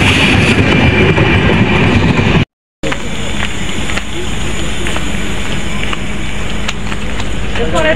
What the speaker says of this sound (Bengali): এখন আরেকটি ট্রেন আসবে